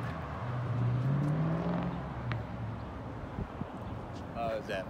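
A Ford Fox body car passes by in a store parking lot, its engine rumbling and rising then fading over a few seconds, with wind noise and a brief voice near the end.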